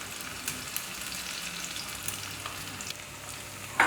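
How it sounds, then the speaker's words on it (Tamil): Curry leaves, torn coriander leaves and halved dried chillies sautéing in a pan, heard as a faint, steady frying hiss with a few soft clicks of a spoon, without voices. "இதெல்லாம் ஒன்றா சேர்ந்து நல்லா வதங்கட்டும்."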